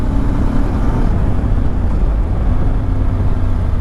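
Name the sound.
Voge 625 DSX motorcycle riding on mountain road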